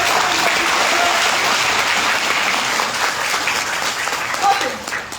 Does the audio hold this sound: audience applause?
yes